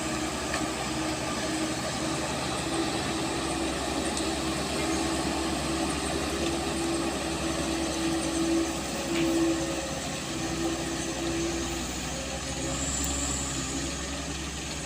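A vehicle engine drones steadily while climbing the steep Kedabuhan incline on a slippery road in heavy rain, a constant low hum with slight swells under a wash of broadband noise.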